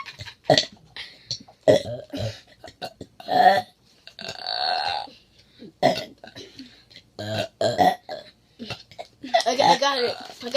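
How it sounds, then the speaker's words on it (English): Someone burps repeatedly in a burping challenge, loud close belches of varying length, several strained and drawn out, mixed with talk and giggling between attempts. "How long can I burp?"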